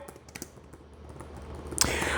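Fingers tap keys on an Asus ROG Zephyrus Duo 2026 gaming laptop keyboard, a quick burst of light, soft clicks close up, ending in a brief rustle.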